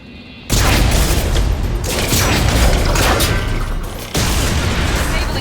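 Heavy-weapon explosions in the video game Mass Effect 2 Legendary Edition on PlayStation 4, sustained loud booming blasts that rumble on for seconds, then a fresh detonation near the end.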